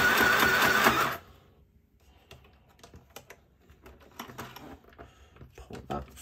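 A sewing machine runs a quick stitch through patterned card paper for a handmade greeting card, one loud, close burst lasting about a second, followed by quiet clicks and paper handling.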